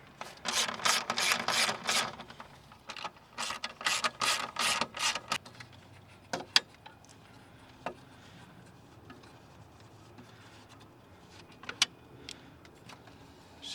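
A ratchet wrench loosening a 16 mm bolt on the intake of a BMW 535i F10, quick bursts of clicking close up, followed by quieter scattered metallic taps and handling noises.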